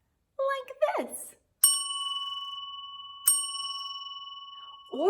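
A single bell with a clear pure ring, like a desk or bicycle bell, is struck twice and each tone sustains and fades slowly, preceded by a brief chirpy sound and with no talking.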